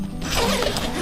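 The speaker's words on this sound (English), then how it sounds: "Unzip the window" The window zipper on a Maverick X3 Max soft cab enclosure is pulled open in one quick, close, rasping stroke that lasts about a second.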